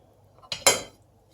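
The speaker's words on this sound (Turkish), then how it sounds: "Üzerlerine birer tane kapak kapatıyorum." Metal lids go onto pots of stuffed dried eggplants and peppers with two quick, close clanks half a second into an otherwise quiet kitchen.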